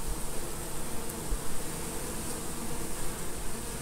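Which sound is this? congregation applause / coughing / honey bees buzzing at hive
honey bees buzzing at hive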